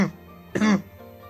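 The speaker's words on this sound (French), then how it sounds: "Excusez-moi pour cette toux." A single short, harsh cough close to the microphone, preceded by a brief breathy sound, over gameplay commentary on Clash Royale.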